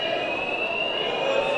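A building's fire alarm sounds during a darts festival, holding a steady high electronic tone with a lower buzz beneath it, unbroken and fairly loud against the murmur of the room.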